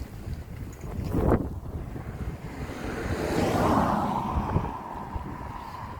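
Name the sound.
wind blowing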